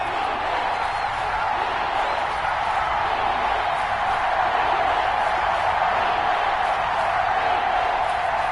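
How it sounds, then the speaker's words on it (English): Stadium crowd in an American football video game on PS4 cheering ahead of a big third down, a continuous dense roar of massed voices, steady and fairly loud throughout. "the crowd getting into it as we come up on a big 3rd down"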